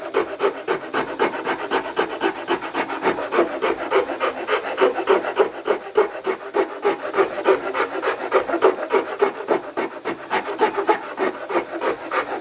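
A wood rasp files a resonator ukulele part in steady back-and-forth strokes, a loud rough scraping rhythm that repeats without pause, with no talking.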